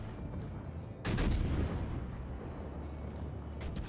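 Heavy battleship guns fire in World of Warships: a single loud, deep booming salvo strikes suddenly, then rolls into a long rumbling decay over steady background noise.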